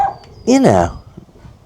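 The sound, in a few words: dog barking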